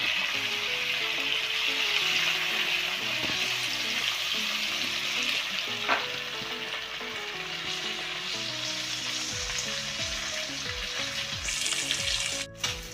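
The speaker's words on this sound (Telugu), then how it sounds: "ఈ తాలింపులో కాస్త మగ్గనిద్దాం ఎండు చేపలని." Dried fish pieces fry in a hot tempering of oil, giving a steady, close sizzle that carries on for the whole stretch with no talking.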